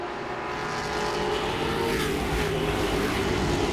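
Grand Stock race cars racing for the lead at Langley Speedway, a steady loud roar of engines with a swelling pass-by near the middle and continuous track noise, no talk.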